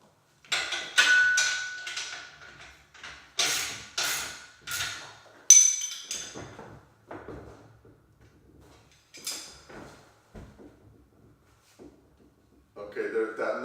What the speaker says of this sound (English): I'm going to try to tighten the pivot a little bit down below